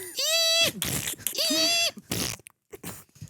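A person's voice imitating a Volkswagen GTI car, two drawn-out tonal vocal revving sounds followed by short breathy bursts, close and fairly loud.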